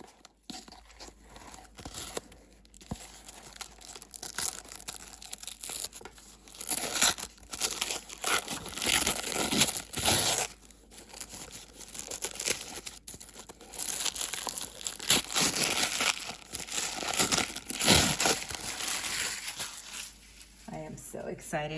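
Tissue paper wrapping on a Trollbeads parcel tied with red twine is torn open and crumpled: continuous crinkling and rustling, loud and close, with busier bursts of tearing throughout.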